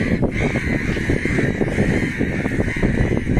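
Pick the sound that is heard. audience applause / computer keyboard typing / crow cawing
crow cawing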